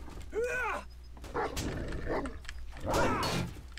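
A regular wolf in the survival video game 7 Days to Die growls and snarls in rough, rising bursts, fairly close and loud, with game noise underneath.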